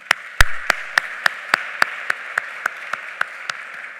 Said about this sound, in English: A round of applause to CRISA 2 and the CRISA committee.